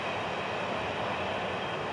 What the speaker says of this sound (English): Let's get this train safely by us right now.